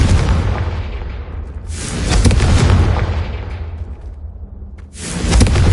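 Confringo spell explosions in Hogwarts Legacy: three loud, booming blasts with a whooshing rush, each rumbling and fading before the next hits, with no talking.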